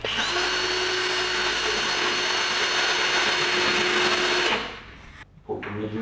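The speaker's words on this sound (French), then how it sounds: "Donc c'est parti, on visse." Power screwdriver driving screws into plasterboard during drywall installation, a steady loud whirring motor run lasting several seconds, then cutting out with a brief pause and a short restart.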